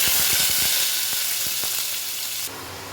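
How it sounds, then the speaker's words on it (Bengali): Dry red chillies, whole cumin seeds and bay leaf hit hot oil in a pan, making a loud, steady sizzle with a few sharp pops early on, easing slightly toward the end. "তেলের মধ্যে আমি শুকনো লঙ্কা, গোটা জিরে আর তেজপাতা ফোড়ন দিয়ে দিলাম"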